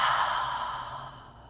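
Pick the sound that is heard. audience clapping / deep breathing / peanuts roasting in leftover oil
deep breathing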